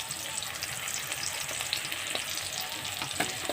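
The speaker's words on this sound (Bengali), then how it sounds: "এই পেঁয়াজ কুচিটা একটু লাল লাল করে ভেজে নিতে হবে" Chopped onions fry in oil with salt and turmeric for a potato chicken curry, giving a soft, steady crackling sizzle with light stirring scrapes close by.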